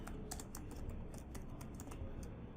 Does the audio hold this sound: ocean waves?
no